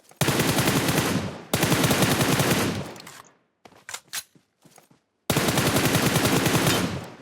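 Gunfire in PUBG Mobile comes as long, loud, sustained automatic bursts, three of them in a row, with a few short separate shots in the pause between the second and third.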